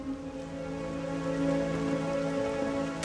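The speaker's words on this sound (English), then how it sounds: "Should probably turn the ambience down just a little bit, just so the rain isn't too overbearing." Steady rain ambience from World of Warcraft Cataclysm Classic falls evenly as a constant wash of patter under a faint sustained musical drone, with no talk.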